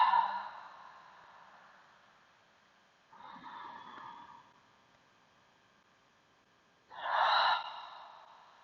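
Three slow, deep breaths in a calm guided breathing exercise, each a soft nasal inhale followed by a breathy sighing exhale, spaced several seconds apart and heard close and alone.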